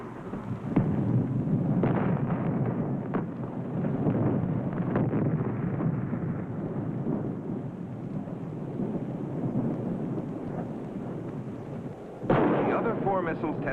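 Rocket launch failure from a 1959 film on the Thor intermediate-range ballistic missile: a long, loud, rumbling roar with booming blasts, strong throughout and rising again near the end, with faint narration underneath.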